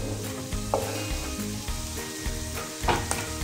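Butter and onion frying in a pan, a dense continuous sizzle with occasional spatula scrapes and knocks, close and steady without speech.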